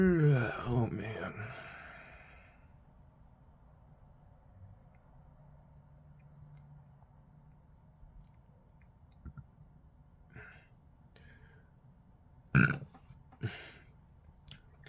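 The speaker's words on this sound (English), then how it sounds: "Maybe you couldn't hear that burp." A person lets out a burp, a close, low, rumbling eructation near the start, followed by long quiet with a few faint clicks and a sharp noise near the end.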